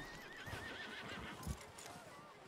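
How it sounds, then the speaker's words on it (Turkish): A horse whinnies with a long wavering call in a snowy Wild West winter setting, with soft hoof thumps and low rustling beneath it. "Atı bağlayalım bakalım bir."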